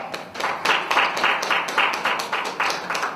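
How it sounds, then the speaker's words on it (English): Audience members at a youth evening gathering clap together, a crisp rhythmic run of fairly loud, closely spaced claps lasting the full few seconds. "Can we clap that up?"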